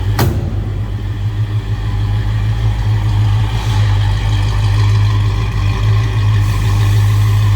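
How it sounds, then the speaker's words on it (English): A 1966 Pontiac GTO Convertible's exhaust idles with a deep, throaty, steady rumble, loud and close, holding an even low drone throughout. "Nice deep throaty exhaust note."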